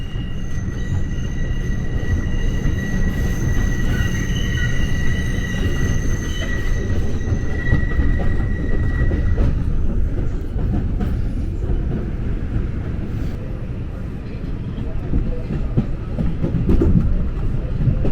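A New York City subway train arrives in the Bronx, rumbling and clattering steadily, with high metallic wheel squeals ringing out early before fading into the ongoing roar.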